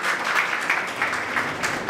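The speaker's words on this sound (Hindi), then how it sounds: "आप लोग जोरदार तालियों से स्वागत करें" Applause from an audience at a teacher felicitation ceremony and studio opening, many hands clapping in a steady, dense patter that stays fairly loud throughout with no talk over it.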